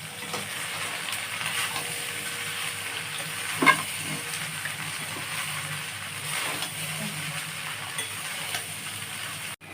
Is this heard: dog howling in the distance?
no